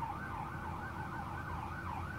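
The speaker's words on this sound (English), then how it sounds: "Some sirens going off." A wailing emergency vehicle siren sweeps steadily up and down over a low rumble of road traffic, fairly distant and continuous, with no voices.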